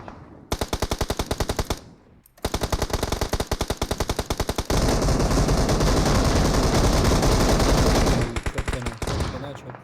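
Automatic gunfire in the battle royale game PUBG Mobile on the Livik map, loud rapid bursts with a brief pause, then sustained dense firing that tapers into a few more bursts.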